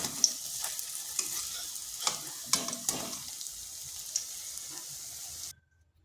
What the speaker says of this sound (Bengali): এইভাবে বড়াগুলোকে ভেজে নিয়েছি।